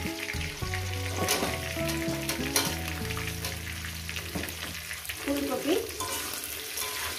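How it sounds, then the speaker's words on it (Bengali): A katla fish head frying with salt in a pan sizzles steadily under a melodic music track, with stirring scrapes in the middle of the sound. "আর লবণ দিতে লাগবে না, এটা একটু ভেজে নেবো।"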